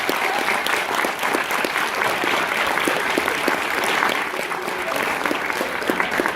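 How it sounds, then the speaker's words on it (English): Convention audience at Tora-Con 2016 applauding a voice-actor panel, a steady, dense wash of clapping filling the whole stretch at even loudness with scattered cheers mixed in. "Give it a round of applause for these guys right here"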